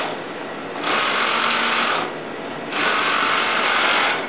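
A sewing machine stitches the curved seams of mesh leggings in two loud, steady runs, with a short pause between them, close up and with no talking.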